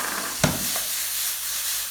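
Mushrooms with spring onions sizzle in a hot pan as a close, even hiss, with a sharp clatter and burst of spitting near the start as the onions go in, and no talking.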